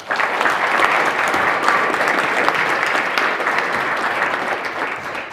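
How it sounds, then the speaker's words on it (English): Enthusiastic applause rises from an audience for panel participants at a Holocaust education program, a thick, sustained wash of clapping at a steady, fairly loud level. "Thanks for the enthusiastic rounds of applause for our participants"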